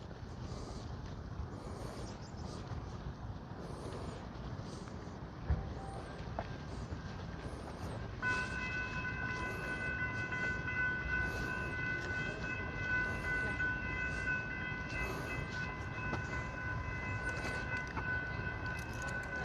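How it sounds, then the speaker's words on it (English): A train arrives at a station in Austin, Texas, a steady low rumble of rolling cars that grows slightly louder midway as a high whine or squeal joins in, with no talk over it. "Here comes the train."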